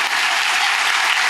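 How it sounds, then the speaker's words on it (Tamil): Sustained, dense applause from an audience giving a standing ovation at a dance school's 20th annual day, steady and full throughout with no voices over it. "ஒரு ஸ்டாண்டிங் ஒவேஷன் ரொம்ப தேவை"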